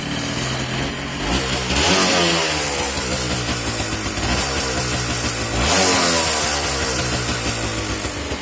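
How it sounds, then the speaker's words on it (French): A KMX 125 motorcycle engine runs loudly nearby, idling with a rough throb and swelling twice as the throttle is blipped. "c'est vraiment une moto qui tourne"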